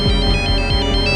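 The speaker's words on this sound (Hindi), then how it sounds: "उस रात जब मैं सो रहा था मेरे फोन की घंटी बजी थी" A phone ringtone rings at night, loud and close, its short electronic melody repeating in quick pulses with no voices over it.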